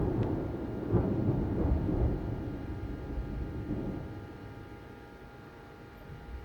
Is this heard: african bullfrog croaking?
no